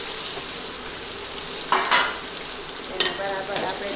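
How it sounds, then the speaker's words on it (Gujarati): Chopped okra being stirred into hot oil with mustard seeds, cumin and curry leaves, giving a steady sizzle and frying hiss with a few louder scraping stir strokes, close and without talk. "તેને બરાબર આપણે તેલમાં મિક્સ કરી દઈશું."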